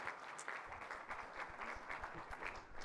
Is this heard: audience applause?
yes